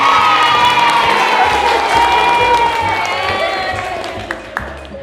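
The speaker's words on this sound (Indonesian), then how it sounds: "Tepuk tangan buat kita semua" A classroom of children claps and cheers together, bright shouts and whoops rising over a loud wash of clapping that slowly thins toward the end, with a few sharper claps standing out.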